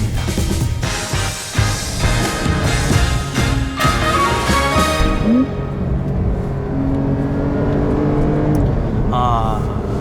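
A Porsche 911 Carrera 4S of the 992 generation driving on an early-morning road, with a steady engine drone and rumble that shifts in pitch as it accelerates, heard from inside the car under continuous talking.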